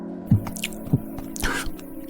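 Someone drinks water in a few wet, squishy gulps and swallows, close to the ear. Faint scraping and soft sounds surround the gulps, and no one talks during them.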